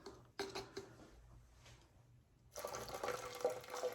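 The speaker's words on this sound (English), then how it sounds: "The lye pour." Lye solution for cold process soap poured into a container, a quiet start with a few small clinks, then a steady splashing pour of liquid in the last part, close by and alone.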